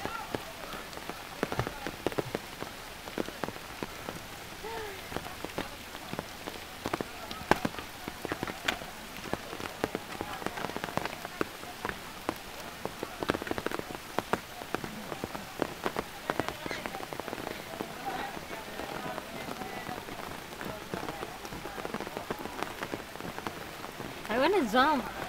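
Steady rain patters on surfaces at the hanging bridge in Bohol, a dense crackle of drops throughout, with voices heard faintly underneath.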